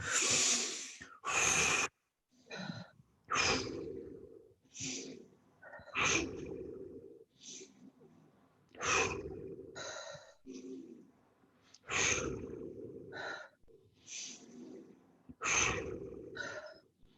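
Deep, forceful breathing during a guided breathing exercise, with sharp inhales and long exhales repeating in a quickening rhythm, close and loud, with occasional spoken instructions between breaths.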